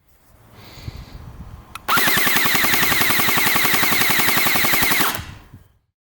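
A Jund M4 CQB gel blaster on a 2S battery fires a sustained full-auto burst of about three seconds, a rapid, loud buzzing rattle of shots, preceded by a soft click and quiet handling.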